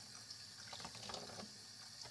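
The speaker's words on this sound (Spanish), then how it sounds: "Pero aquí escurre todo el agua." Water draining and trickling in a kitchen sink during dishwashing, a steady soft wash of running water at moderate, fairly faint level with a few brief splashes.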